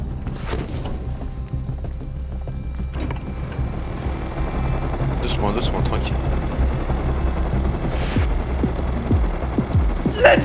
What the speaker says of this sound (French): Il s'est posé où l'hélico?